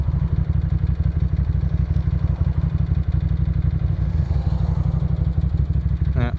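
A Ducati Monster M600 motorcycle with a Ducati Performance retro-style exhaust runs steadily, a loud close low-pitched throbbing engine note with a rhythmic pulse, joined by a rush of wind; no talking.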